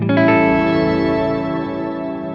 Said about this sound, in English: make pitch mix all the way up, and that means we will only hear the pitch shifted reverb